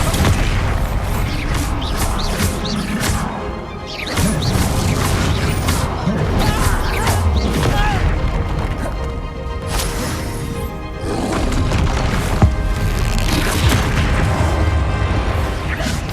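Bombarda blasting spells go off repeatedly in Hogwarts Legacy, a series of loud booming explosions with crashing debris, no talk, over continuous game action and noise.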